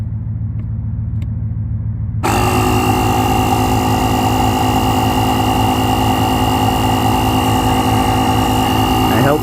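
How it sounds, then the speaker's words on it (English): A JomGand jump pack's built-in tire inflator pump switches on partway through, jumping from a quiet hum into a loud, steady mechanical drone with a constant tonal whine that continues to the end. "I held the pump button and it turned on."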